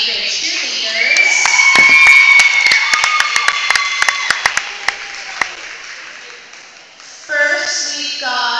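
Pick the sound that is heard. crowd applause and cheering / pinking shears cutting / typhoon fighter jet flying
crowd applause and cheering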